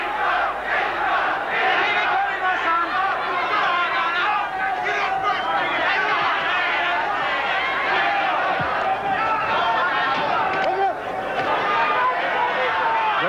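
British boxing crowd roaring and chanting for boxer Alan Minter in round 13 of a fight against Vito Antuofermo, a dense, loud, continuous wall of massed voices throughout.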